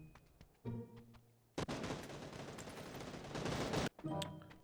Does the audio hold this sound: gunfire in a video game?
yes